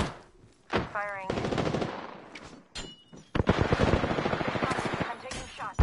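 Gunfire in a shooter game: rapid automatic bursts crack out close and loud in several rattling strings, separated by brief pauses, with a short voice mixed in among them.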